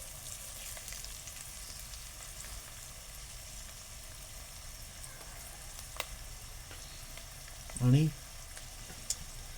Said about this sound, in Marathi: आता मी टाकणार आहे लसूण, लगेच कढीपत्ता सुद्धा टाकतो त्याच्यात.